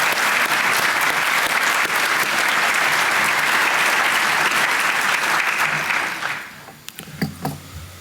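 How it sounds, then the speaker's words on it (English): A pro-life dinner audience applauds in a banquet hall, dense sustained clapping from many people that tapers off and fades near the end, leaving a few scattered sounds. "So, yeah, give a round of applause."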